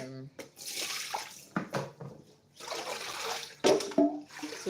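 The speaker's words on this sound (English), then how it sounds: "So I've rinsed the pot" Running water rinses a cooking pot in a kitchen, splashing and gurgling in uneven bursts close by, with a person talking over it.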